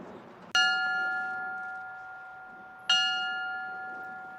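A memorial bell in Moore, Oklahoma strikes twice, a few seconds apart, each clear tone ringing out and slowly fading, with a faint background hush.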